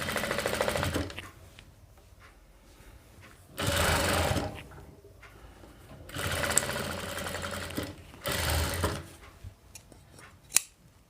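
Domestic sewing machine running stitching a princess-cut blouse, in four loud bursts of rapid whirring separated by quieter pauses with faint handling clicks and a sharp tap near the end.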